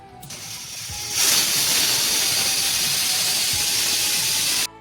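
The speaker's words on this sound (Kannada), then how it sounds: "ಒಂದು 2 ವಿಷಲ್ ಆದರೆ ಸಾಕು ಫ್ರೆಂಡ್ಸ್" A pressure cooker whistles loudly while cooking tomato rice bath, a sustained hissing shriek of venting steam that starts after a second, holds steady for about four seconds, then cuts off abruptly.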